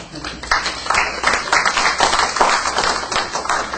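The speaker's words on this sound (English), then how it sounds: "Can you please clap for this convention?" Steady applause from a convention audience, many hands clapping at once in a dense, continuous patter that holds for several seconds.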